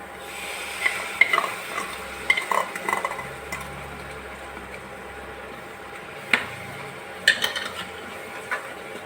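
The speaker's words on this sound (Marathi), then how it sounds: "आता हे सर्व मिक्स करून घ्यायचं आता हे मिक्स झालेले आहे त्यामध्ये टॅमॅटो प्युरी टाकायची" Tomato puree being stirred into frying pav bhaji masala, with a soft continuous sizzle and sporadic sharp clinks and scrapes of a spoon on the pan, close by.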